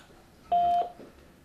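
A voicemail beep sounds right after a recorded French mobile-phone greeting: a single steady electronic tone lasting about a third of a second, clear and alone over faint line hiss.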